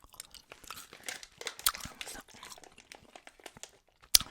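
Gum chewed close to the microphone, wintergreen flavored, with moist smacking and clicking bites in an irregular rhythm, quiet and intimate, ending with a sharp snap.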